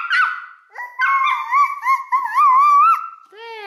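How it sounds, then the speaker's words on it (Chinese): A small dog barks once sharply, then lets out a long wavering howl that rises and dips, close and loud, ending with a brief higher yelp. "狗怎么这么叫啊？"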